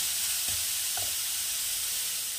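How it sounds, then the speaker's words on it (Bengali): Sliced beetroot frying in a pan for Kolkata vegetable chops, a steady bright sizzle with a couple of soft stirring knocks early on. "বিটটা একটু ভাজা ভাজা হয়ে গেছে"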